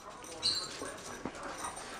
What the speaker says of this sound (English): you always have to growl and make it